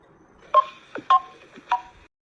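A mobile phone being dialed to place a call in a Tamil drama: four short keypad beeps in an uneven rhythm, close and clear, separated by faint clicks, then silence.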